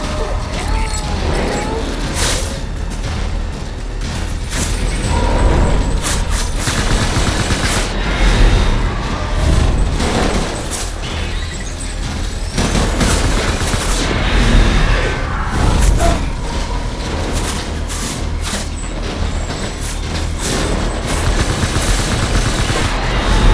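Dense gunfire in the video game Death Stranding, rapid machine-gun bursts rattling over engine rumble for the full stretch, loud and close, with voices mixed in.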